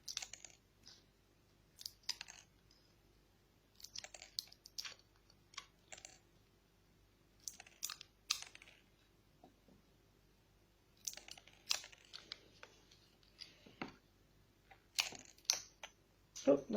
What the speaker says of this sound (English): So once you have cut up all your straws, I'll try and do mine as fast as I can